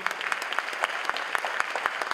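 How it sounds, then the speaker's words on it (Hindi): An audience at a stage show claps in a fairly sparse patter. Distinct individual claps ring out over a steady background of applause at moderate volume. "जोरदार तालियां हो जाए विकल्प सहाय जी के लिए।"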